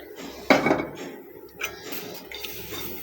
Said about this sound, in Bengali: খালি কড়াইতে একটু টাইলা নিব ভালো করে।